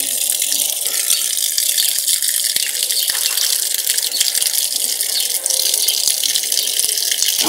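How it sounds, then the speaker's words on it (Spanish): Water gushes steadily into a Whirlpool semi-digital washing machine as it refills after sensing the load, a loud, even rushing fill sound lasting throughout. "Y después de sensado, vuelve a llenar"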